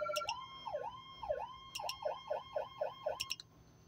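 A Whelen Carbide Howler siren on a 2014 Ford F-150 XL plays its test tone: a rapid series of rising and falling electronic whoops with sharp chirps in between. The sound is fairly faint and continuous.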